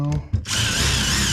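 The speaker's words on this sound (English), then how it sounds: "drill holes through that in the right spot" Power drill boring holes through a window channel while installing side glass on a 1955 Chevy, a short whir then a loud sustained high-pitched drilling whine, close, with a voice briefly heard at the start.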